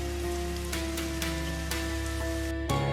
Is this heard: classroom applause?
no